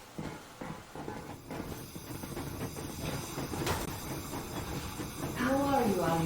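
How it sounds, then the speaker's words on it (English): A steam locomotive runs steadily in the Metro Exodus video game, a continuous rumbling mechanical roar with hiss and rhythmic rail clatter that swells louder toward the end, with game dialogue and music over it. "Yermak, full steam ahead."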